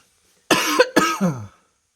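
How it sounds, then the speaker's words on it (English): Two harsh, close coughs follow each other in quick succession, then silence. "I'm coughing."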